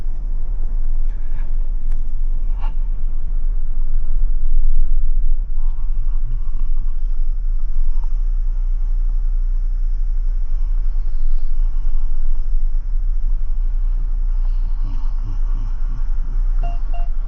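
A diesel Mahindra Thar Roxx SUV drives fast over a rough, bad road, with a heavy, steady low rumble of engine and tyres, wind buffeting, and occasional knocks and thumps from the uneven surface throughout, no voices.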